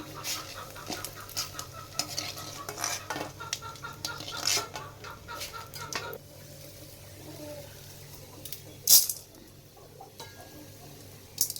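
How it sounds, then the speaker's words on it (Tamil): Urad dal and chana dal roasting in a kadai with a little oil over a low flame, with steady scraping and clinking of a spatula stirring against the pan and a faint sizzle underneath. "ஒவ்வொரு பொருட்களையாக வறுத்தெடுக்கணும் கருக விடக்கூடாது தீயை கம்மியாக வச்சு வறுக்கணும்"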